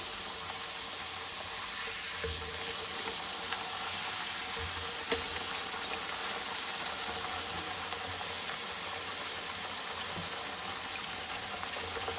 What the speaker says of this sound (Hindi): हम लोग दरमियाने घी में अब इनको फ्राई करेंगे और धीमी आंच पर ही फ्राई करेंगे।